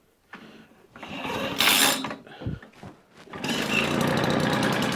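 Small carburetted engine pulled over and briefly firing in a workshop, a rough sputtering start that settles into a steady close buzzing run.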